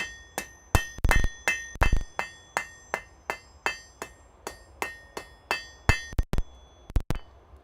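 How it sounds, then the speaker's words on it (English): A hammer strikes hot metal on an anvil in a smithy, ringing out about twenty sharp, bright, metallic blows in a steady rhythm with a few quicker double hits, loud and close with no talking. "the anvil is the other half of your tool. It basically does whatever you do with your hammer"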